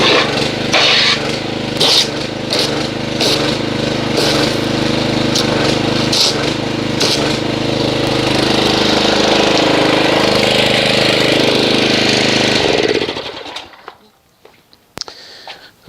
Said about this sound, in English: let me get the pressure washer